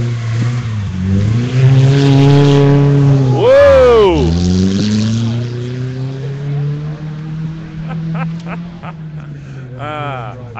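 The Mighty Max rally truck drives through a sand stage at Sandblast 2013, its engine revving loudly with rising and falling pitch as it passes close, with people talking over it.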